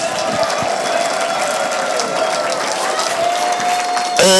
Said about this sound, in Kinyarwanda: Abantu Yesu azi mukomera amashyi mu izina rya Yesu.